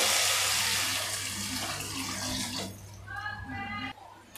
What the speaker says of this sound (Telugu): అదే గ్లాస్తో 4 గ్లాసుల వాటర్ యాడ్ చేసుకున్నాము